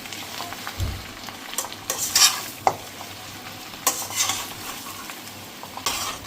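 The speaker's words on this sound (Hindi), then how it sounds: "अच्छी तरह से मिक्स कर लीजिए।" A spoon stirs spices into food frying in a pan, scraping and clinking against the metal over a soft steady sizzle, with a few sharper taps along the way.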